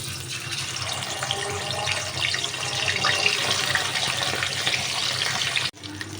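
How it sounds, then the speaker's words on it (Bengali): Katla fish pieces fry in hot oil in a kadai, a dense, close, steady sizzle and crackle that holds evenly before cutting off abruptly near the end. "তেলটা গরম হয়ে গেছে,"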